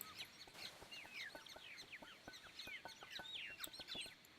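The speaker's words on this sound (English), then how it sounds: "So Evening Bird Song is a bit loud." Recorded evening birdsong playing back in a music mix, with quick whistled chirps and trills from several birds, against a steady faint hiss and scattered sharp ticks.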